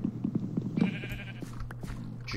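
Several sheep in the Minecraft video game bleat in quick succession, short nasal calls stacked close together over a steady low game background.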